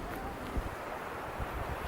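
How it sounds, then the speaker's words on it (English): Gusty wind buffets a microphone outdoors on a moraine below Mount Rainier, a steady broadband rush with a couple of stronger gusts, fairly loud and continuous with no voices. "the wind is really picking up"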